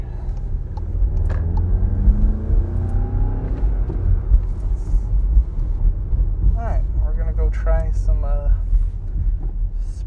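A 2019 Volkswagen Golf GTI in sport mode on winding roads: heard from inside, the engine note climbs steadily under acceleration over a constant road and wind roar, and brief voices follow.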